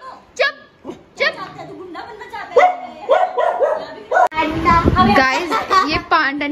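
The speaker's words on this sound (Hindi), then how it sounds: "अनजान लोगों को देख के इतना भौंक रहा है, इतना भौंक रहा है" A pet dog barks repeatedly at strangers in short sharp bursts, mixed with a voice and other people talking nearby, with yips between the barks.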